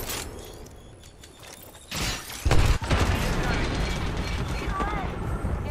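A grenade blast and gunfire in a first-person shooter video game, a sudden loud burst midway followed by a dense wash of rapid shots and clatter, with players talking over it.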